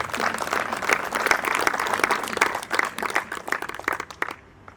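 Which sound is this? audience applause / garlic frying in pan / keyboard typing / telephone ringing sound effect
audience applause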